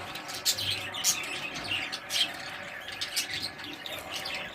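Small pet birds fed a meal of vegetables such as beetroot chirp and tweet in quick, scattered bursts, fairly close against a soft background hiss.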